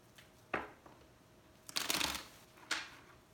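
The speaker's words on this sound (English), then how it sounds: "One more shuffle here, and then we'll go ahead and pull a card." Tarot cards being shuffled in quick riffling bursts, a few short flicks followed by a longer dense riffle and one more flick, close up with no talking.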